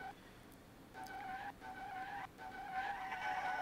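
A 12,000-horsepower tuned car in the racing game Street Legal Racing Redline sounds off in a faint, high-pitched whine that cuts out briefly twice, resembling tire squeal or a screaming engine, with no talking.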